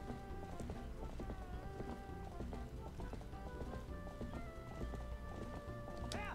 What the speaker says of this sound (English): I am a master of goat herding.